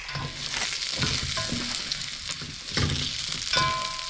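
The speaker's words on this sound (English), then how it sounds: "now that the wings are in there, we're gonna mix everything in like that there" Honey garlic sauce is stirred into hot chicken wings in a pan, giving a steady close sizzle with irregular scraping and sticky stirring sounds, with no talk.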